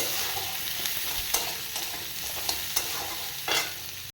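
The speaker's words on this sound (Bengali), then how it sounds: "এর মধ্যে আমি পেঁয়াজ কুচি দিয়ে দেবো যেহেতু আমি জিনিসটা ভাজা করব" Chopped onions sizzle steadily in oil as a spoon scrapes and stirs the pan several times, sharp clicks punctuating the close, continuous frying.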